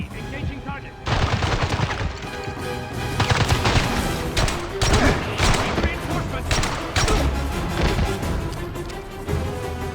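Gunshots from the James Bond 007: Blood Stone video game ring out in loud, close bursts of rapid fire with short pauses between volleys and ringing echoes afterward.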